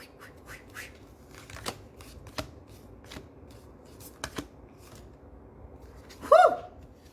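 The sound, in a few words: shuffling cards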